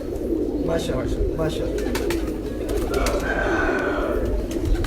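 Pigeons cooing nearby at a pigeon keeper's house in Bhuchal Kalan, with soft repeated coos and a few brief bird calls under a voice speaking over them.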